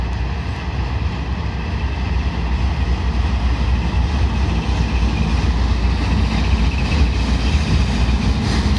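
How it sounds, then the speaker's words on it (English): A Norfolk and Western locomotive hauls boxcars past close by in Kannapolis, North Carolina, producing a loud, steady rumble and roar of rolling wheels and cars that continues without a break. "Oh, Norfolk and Western. Boxcar right behind the locomotive."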